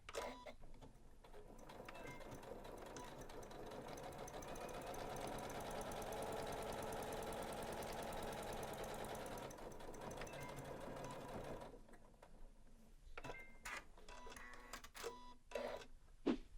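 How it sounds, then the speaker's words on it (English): A Janome sewing machine runs continuously while top stitching along the folded edge of a fabric bag, a steady close whir that stops near the end, followed by a few soft handling clicks. "so it's so easy to take a scant top stitch right there on the edge"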